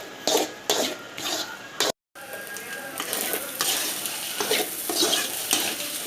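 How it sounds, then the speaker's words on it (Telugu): Eggs are stirred into rice in a pan with loud, rhythmic scraping strokes over a frying sizzle, pausing once in a brief near-silent gap before the stirring resumes. "ఎగ్గులు వేసినాక ఇట్లా బాగా కలపాలి."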